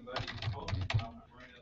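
Quick taps on a sticking computer keyboard, a short uneven burst of close keystrokes with a faint murmur of voice behind them.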